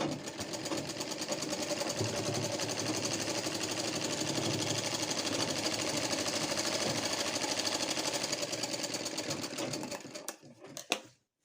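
Sewing machine stitching panels of chequered kurti fabric, running in a fast, steady mechanical chatter for about ten seconds before slowing and stopping.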